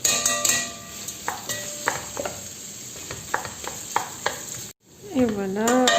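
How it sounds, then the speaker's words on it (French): Washed coral lentils stirred in a pot, with a steady run of soft scraping and light clinks against a faint sizzling background, followed by a brief pause and a short rising tone near the end. "On va venir mélanger tout ça avant de mettre l'eau."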